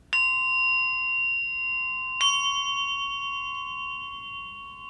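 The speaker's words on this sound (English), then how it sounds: "it's called the Japanese rin bell" A small Japanese rin bell, a hand-struck family heirloom, rings out with two clear strikes about two seconds apart, each leaving a bright, sustained tone that slowly fades, with no talking.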